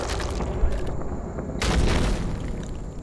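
A gunpowder keg in Uncharted: Drake's Fortune takes a shot and explodes, giving a broad booming blast with a rumbling tail over the game's ambient sound.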